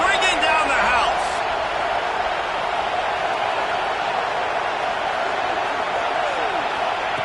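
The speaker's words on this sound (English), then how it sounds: "3rd down, and this crowd is bringing down the house." Stadium crowd at a football game on third down, a loud continuous roar of cheering that fills the whole stretch, with a brief shout near the start.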